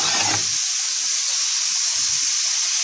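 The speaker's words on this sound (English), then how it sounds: "So we flip the steak, let it cook for a little longer." A flipped steak sizzles in a pan, a steady bright hiss holding throughout with a brief low knock at the start and another soft thud partway through.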